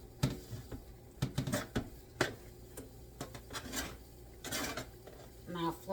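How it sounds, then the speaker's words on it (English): Knife slicing flank steak into strips along the grain, repeated soft cuts and taps on a board in an irregular rhythm, close and fairly quiet. "I like to cut it into strips. Just follow along the grain"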